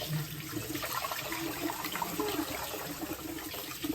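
Water is poured out of a container during rinsing in a kitchen, a steady splashing, trickling flow running continuously at close range with no talk over it.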